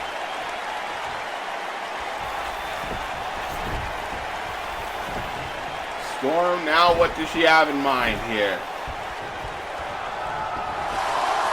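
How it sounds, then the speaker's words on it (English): A wrestling crowd in the WWE 2K video game roars in a steady, dense wash throughout a women's match featuring Toni Storm, swelling slightly near the end, while a commentator talks over it midway. "You hear the crowd going crazy."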